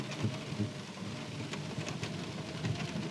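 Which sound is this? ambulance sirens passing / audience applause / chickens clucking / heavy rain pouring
heavy rain pouring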